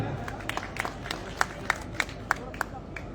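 A crowd applauding at a Maharshi Kashyap Jayanti celebration in Shiv Vihar, Delhi: steady rhythmic clapping with a few sharp individual claps standing out, moderately loud with a faint murmur beneath.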